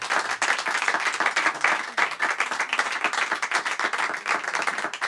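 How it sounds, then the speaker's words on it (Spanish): A comedy show audience claps loudly and continuously, a dense, even wash of many hands with no talk over it. "Fuerte el aplauso para ella."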